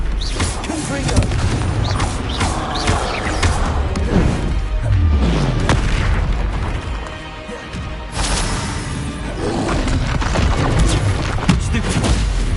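Confringo fire spells from the video game Hogwarts Legacy blast in a dense, loud barrage of booms and crashes that rumbles almost without pause, with a voice calling out briefly amid the chaos.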